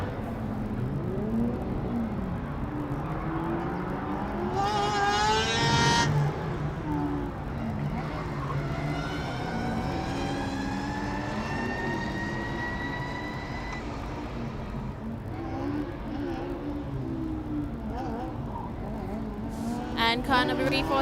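Formula Student race car on a 2012 autocross course, the engine rising and falling in pitch as it accelerates and brakes through the corners, heard from a distance under a commentator's voice and crowd murmur.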